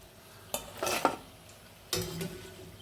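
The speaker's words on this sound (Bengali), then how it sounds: "এখন সবগুলা তুলে নেব ঠিক আছে একদম মশমশা করে তুলে নিচ্ছি" Crispy fried spiced pitha cakes are lifted from a frying pan, with two bursts of scraping and clinking utensil contact over a faint background sizzle.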